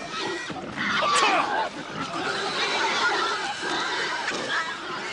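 A herd of pigs squeals and grunts in a loud, continuous, chaotic chorus, mixed with shouting voices in a dramatized scene.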